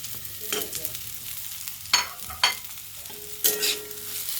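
Sunflower and pumpkin seeds with nuts fry in a little white oil, giving a soft sizzle broken by several sharp stirring scrapes and clatters that come in uneven bursts. No one speaks.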